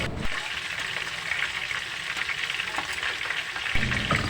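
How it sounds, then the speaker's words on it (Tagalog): Food frying in a pan gives a constant, fairly loud sizzle and crackle with no pauses, close by and without talk. "Mas malakas pa yung tunog nung piniprito."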